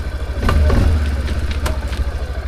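A Linhai 550 quad bike idles nearby with a low, steady, throbbing rumble and light mechanical clatter, heard alone.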